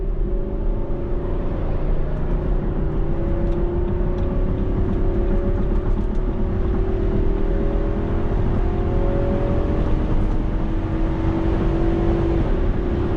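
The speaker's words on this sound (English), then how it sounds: "One last opportunity for a hard acceleration, then we're gonna wrap this thing up." A 2021 Nissan Armada V8 under hard acceleration, its engine and intake note rising steadily in a loud, continuous roar from inside the cabin, with no talking.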